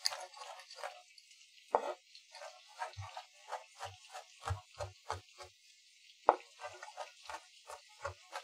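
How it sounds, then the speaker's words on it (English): Knife mincing garlic on a cutting board in a home kitchen, a rapid series of sharp, close taps in uneven bursts with brief pauses between runs. "And then I'm going to cut my garlic."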